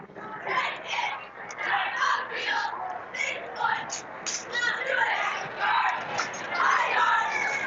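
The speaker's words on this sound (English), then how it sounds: "relatively subdued crowd. We're kind of in between the Rambler and Wildcat faithful here in the middle of the bleachers" A football crowd murmurs steadily in the bleachers between Rambler and Wildcat fans, a subdued wash of many voices with occasional louder swells, continuous throughout.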